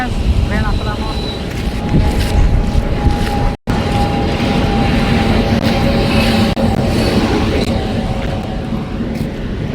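A train arrives at Boudh railway station, a loud, sustained rumble and rattle close by with wind buffeting the microphone, a short dropout partway through, and people talking.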